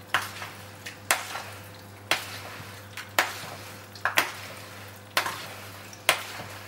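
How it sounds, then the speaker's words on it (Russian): A spoon stirs sliced eggplant and other vegetables in a marinade for an eggplant and mushroom salad: about eight sharp, separate scraping knocks land roughly once a second over a low steady hum, with no talk. "теперь уже ложкой просто вот так вот мешаем в этом маринаде"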